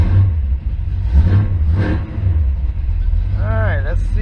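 A C3 Corvette engine, started after two weeks of sitting during a 200-4R transmission install, rumbles loudly up close with a couple of small rev bumps, and a voice briefly speaks near the end.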